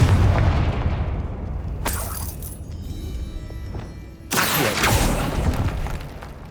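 A Confringo fire spell from the Hogwarts Legacy game sets off two sharp blasts, each followed by a crackling, rumbling tail.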